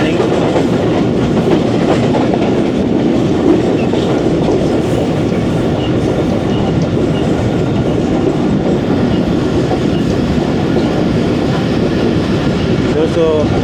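Tezgam express train passing through Shahdadpur station, a steady continuous rumble of rolling wagons with rhythmic clickety-clack of wheels on rail joints, loud and close throughout.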